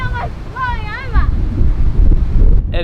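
Strong wind near Eddystone Point Lighthouse in Mount William National Park, Tasmania, buffets the microphone with low rumbling gusts that grow heavier, while a person talks over it at close range.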